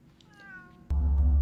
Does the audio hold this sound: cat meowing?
yes